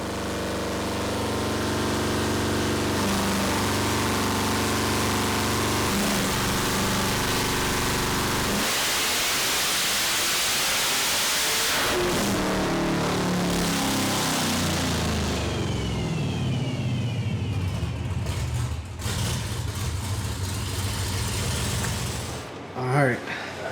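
Stock supercharged LT4 engine screaming through a dyno pull at up to 5,800 RPM, a loud, rising roar with shifting harmonics that sweeps upward, then drops away and winds down near the end, with voices faintly audible.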